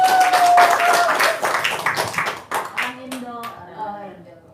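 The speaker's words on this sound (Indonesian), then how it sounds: "Bos, biar semangat tepuk tangan dong." Audience claps at a comedy-style stage show, a dense round of hand clapping under a man's speech in the first half, fading out as talk continues.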